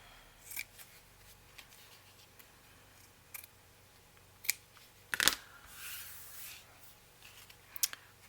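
Scissors trim loose cheesecloth on a handmade journal, with a few quiet, separate snips and a longer cutting rasp in the middle, close by and alone in a soft room.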